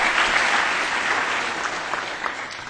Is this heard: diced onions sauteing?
no